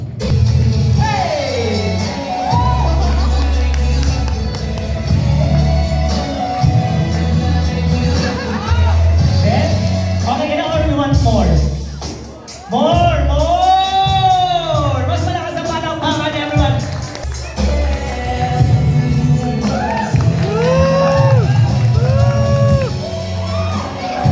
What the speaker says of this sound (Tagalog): palakpak naman natin our group Bert for our garter retrieval ritual